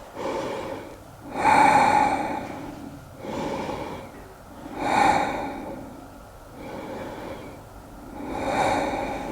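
Slow, deep breaths during a yoga forward fold, knees hugged in and chin curled to the chest: three long inhale-exhale cycles with a rushing, slightly snorting quality, close and alone.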